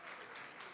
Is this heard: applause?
yes